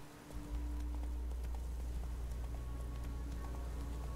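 Horse hooves clip-clop steadily in The Witcher 3 video game, a continuous near trot over a low rumbling background, with no voices.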